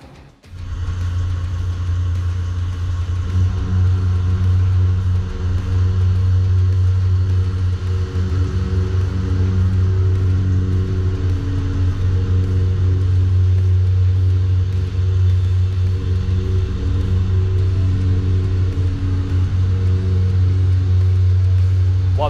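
A KCFM 45 fine-finishing face mill cuts cast iron, giving a steady, loud machining drone with a low hum that continues unbroken throughout.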